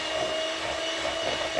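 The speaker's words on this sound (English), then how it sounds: "I'm using a handheld electric mixer for this one" A handheld electric mixer beats cake batter for a summer squash and coconut cake, giving a steady, close motor whir with a thin constant whine and no pauses.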